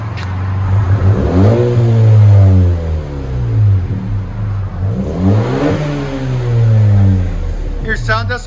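A Chevrolet Camaro with quad exhaust tips revs hard twice, each throttle blip rising to a loud, deep roar and falling back, close to the listener, with talking nearby.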